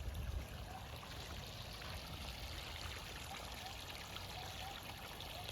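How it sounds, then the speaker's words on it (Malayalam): Water from drip irrigation trickles and splashes steadily onto garden plants in soil, a continuous close, even flow with no talking. "അതിലും വീഴുന്നുണ്ട് വെള്ളം."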